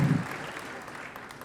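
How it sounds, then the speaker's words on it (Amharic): Applause from a comedy-show audience, a brief faint patter of many hands that fades quickly over about a second and a half. "አጨብጭቡ"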